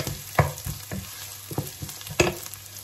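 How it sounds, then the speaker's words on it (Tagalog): Garlic and onion sautéing in a pan, a brief close sizzle broken by several distinct stirring scrapes and knocks, with no talking. "Ginigisa ko ng ating garlic and onion."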